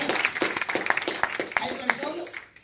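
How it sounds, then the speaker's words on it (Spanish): A church congregation claps together in a brisk burst of mixed, overlapping hand claps that thins out toward the end, with a voice speaking over it. "Denle una ofrenda de aplausos al Señor"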